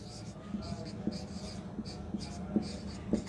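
A pen scratches on paper while an accounting adjustment entry is written by hand. Short, close strokes repeat in a quick, regular rhythm, with a voice faintly present beneath them.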